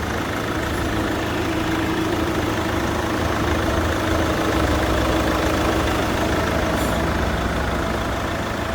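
A 2012 Chevrolet Captiva 2.0 4WD SUV engine idles with a steady, low rumble continuously at close range, an even drone with no revving and no voices.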